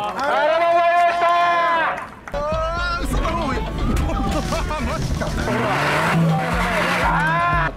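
A four-wheel-drive car racing fast in a time trial, a loud high engine whine that cuts off, then tire skids, gravel and a rumbling engine close by, with people shouting over it.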